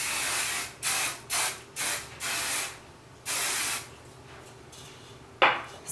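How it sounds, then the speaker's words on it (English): Hairspray hisses from a can onto hair in a series of short and medium bursts, close and fairly loud, with quiet gaps between them and a final brief puff; no voices. "And then finish with a final mist of hairspray."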